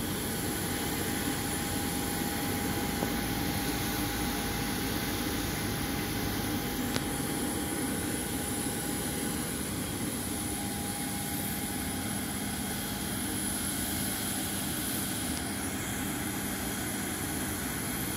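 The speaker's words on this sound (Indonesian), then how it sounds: "Power sudah ditambah, pesawat sudah mendapat clearance dari air traffic control." Scoot Tiger Air airliner's jet engines at increased power on the taxiway before takeoff, a steady distant roar with a faint whine, continuous and unchanging throughout.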